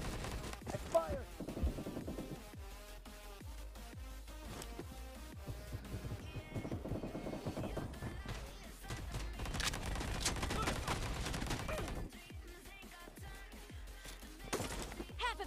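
Rapid gunfire from a mobile shooter game, many sharp overlapping shots in dense bursts throughout, mixed with game music and effects at a fairly steady loudness.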